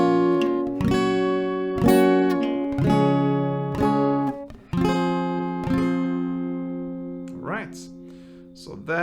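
Acoustic guitar strummed through a chord progression from a song lesson, about nine distinct strums in a steady rhythm, each ringing out and decaying, close and clear with no talking.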